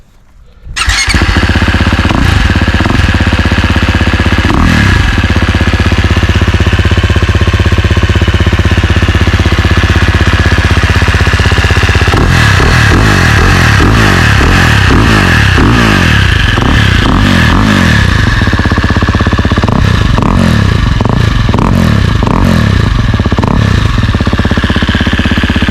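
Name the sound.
KTM 350 six days motorcycle with Akrapovic full exhaust riding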